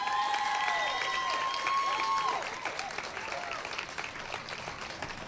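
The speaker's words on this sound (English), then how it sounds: "Can we give a massive round of applause?" A crowd applauds steadily, a dense wash of clapping that holds strong, then eases slightly toward the end.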